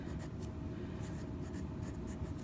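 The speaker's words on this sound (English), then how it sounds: "Now you'll notice that I'm doing this in pencil first." A pencil scratches across paper in short strokes at a regular rhythm, quiet and close against a low steady background hum.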